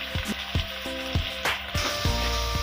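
Steady sizzling of tomatoes frying in a hot pan for pirandai kuzhambu, with a few soft clinks of a spoon stirring at regular intervals.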